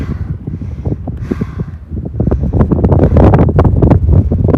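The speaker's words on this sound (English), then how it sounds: "Kind of windy up here, you guys." Strong wind buffets the microphone on Beauty Spot, a mountaintop on the Appalachian Trail in Tennessee, in loud, irregular gusts and rumbles, growing heavier and more constant toward the end.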